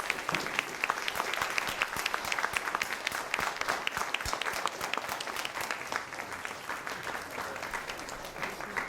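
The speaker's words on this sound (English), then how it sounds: "Give him a round of applause." An audience at an arts luncheon event breaks into sustained applause, dense clapping heard fairly close and steady for several seconds, easing slightly toward the end.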